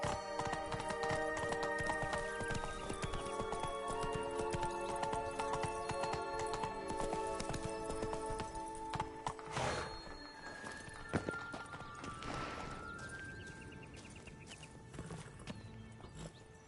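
Horses' hooves clop in a quick, steady rhythm in The Witcher 3, close and continuous, with a few snorts and a whinny before the hoofbeats thin out toward the end.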